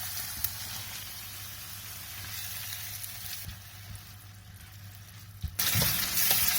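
Tomatoes sizzle in hot oil with fish masala on high heat, a steady frying hiss with a low hum beneath, then a sudden louder burst of sizzling near the end as more goes into the pan.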